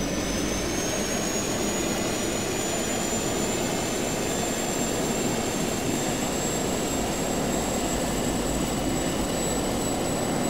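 Aircraft engine from a plane in the open-world action game Just Cause 2: a steady, loud jet-like roar with a high whine, unbroken and close for the whole stretch, with no talk over it.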